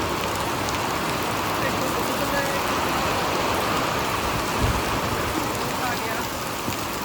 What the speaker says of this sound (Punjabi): ਬਹੁਤ ਜ਼ਿਆਦਾ ਮੀਂਹ ਪੈ ਗਿਆ